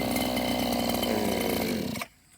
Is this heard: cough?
no